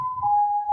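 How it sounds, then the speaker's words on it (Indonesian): Ambulance siren outside a room in Indonesia, a steady wailing tone that dips slightly in pitch, moderately loud and heard alone without talk. "maaf, ada ambulan."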